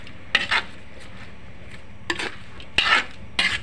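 Buttered shrimp cooking in a pan, with a few short bursts of scraping and stirring against the pan over a quiet background; no talking.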